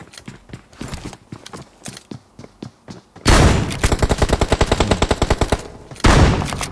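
Automatic rifle fire in a Vietnamese online shooter match, first scattered single shots, then loud rapid bursts that run continuously for several seconds before a final heavy volley, with no voices.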